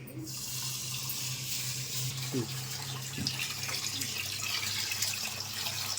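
Basmati rice washed in a pot under running tap water, a close, steady splashing flow with light swirling and a few soft knocks, lasting the whole stretch with no speech.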